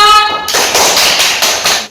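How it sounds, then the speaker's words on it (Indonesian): A class of students claps together in a lesson, a short spoken cue giving way to a close, loud burst of quick, even clapping that lasts about a second and a half. "Tepuk tangan untuk Ananda semuanya"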